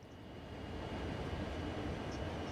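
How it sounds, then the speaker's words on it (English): A diesel locomotive in the Train Sim World 2 game on the Cane Creek Branch produces a steady low engine drone that swells in loudness as it revs up after the throttle notch rises, with no voices. "See, it sounds like it's revving up"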